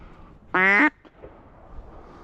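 A single loud, nasal duck quack bursts out near at hand during an evening duck hunt at flight time, then fades into quiet ambient outdoor hush.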